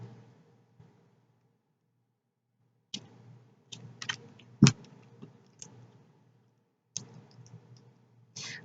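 Small screwdriver tightening the screws on a Tesla Terminator and Ant-Man 22mm vape coil kit, with sharp close clicks and ticks arriving in scattered bursts between quiet pauses.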